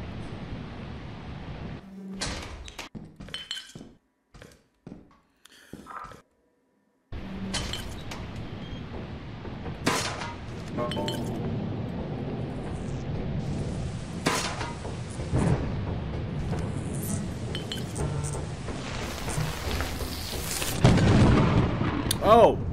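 A thunderstorm rages in the video game Lethal Company: heavy rolling thunder and loud cracking bursts over a constant rain-like roar, with a brief near-silent gap early on, then continuous storm noise building louder toward the end.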